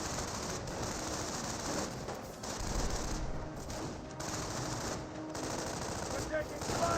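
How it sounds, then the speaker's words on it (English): Gunfire in the real-time strategy game Company of Heroes, a dense, continuous crackle of machine-gun and rifle shots that holds steady, with brief dips, throughout. "We're taking fire on our position."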